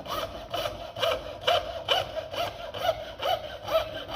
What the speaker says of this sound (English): nice and gently sawing in an up and down fashion